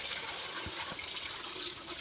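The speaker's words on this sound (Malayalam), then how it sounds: "ഇനി അതിലേക്ക് വെള്ളം നിറയ്ക്കാം" Water pours steadily into a fish aquarium with a continuous rushing hiss, fairly close and uninterrupted.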